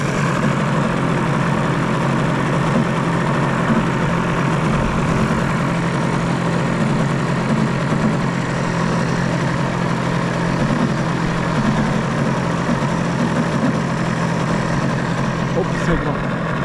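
Small airplane engine at Scobee Field airfield during an air show day, a steady loud drone that holds evenly throughout as the plane taxis and takes off, with people talking nearby.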